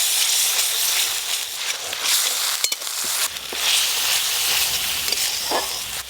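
Onion paste with ginger-garlic paste frying in a pan, a steady hissing sizzle with soft stirring scrapes and a few sharp clicks, moderately loud and close throughout.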